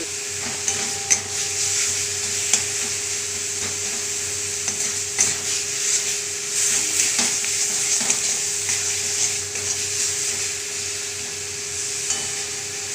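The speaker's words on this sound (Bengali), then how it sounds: "তো পেঁয়াজটা আমি ভাজতে দিয়েছিলাম" Onions frying in a pan for a spicy fish curry, giving a steady broadband sizzle with occasional faint stirring clicks and scrapes, close and continuous with no talking.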